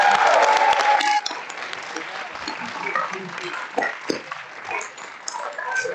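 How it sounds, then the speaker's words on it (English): Audience at a film jam live event gives a final burst of applause that fades after a second, leaving scattered claps and murmurs. "And one final applause for Hans."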